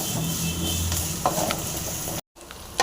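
Onions sizzling steadily in a pan for an aloe vera and brinjal curry, a dense broadband frying hiss with a few soft stirring knocks and a brief cut near the end.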